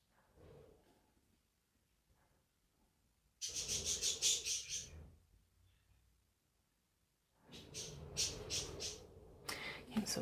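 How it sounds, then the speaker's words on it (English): Small pet birds chirp indoors in two bursts of bright, rapid tweeting, fairly close and moderately loud, separated by quieter stretches. "You hear my birds."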